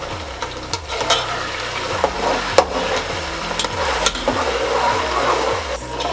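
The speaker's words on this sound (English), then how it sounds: "We're going to stir fry the tomato puree for a couple of minutes" Tomato puree being stir-fried for a palm-oil stew, with a steady sizzle and repeated scraping, knocking strokes of a spoon against the pot, close and continuous.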